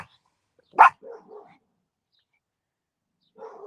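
A single sharp bark from a nearby dog, then a couple of softer short yelps, a pause, and another low yip.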